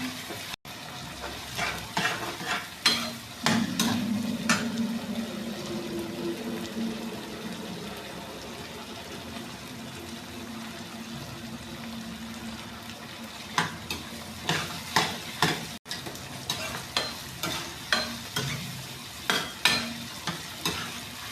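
Potatoes, onion, tomato, peas and green chilies fry for salted rice in a pan, with a steady sizzle broken by rhythmic spoon scrapes and stirring clatter at the start and again near the end, no talking.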